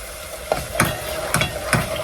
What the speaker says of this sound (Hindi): बस 2 मिनट और भून लेते हैं इसको ज़रा